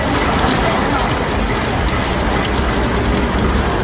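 Continuous rain falling in Tiruchendur, a steady loud dense hiss of downpour on the ground that holds without a break from start to finish.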